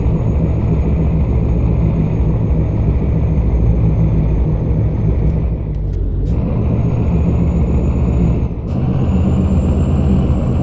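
A heavy truck in American Truck Simulator labours uphill in a loud, steady engine drone, dropping briefly twice as it downshifts, with short air-brake hisses between the gear changes.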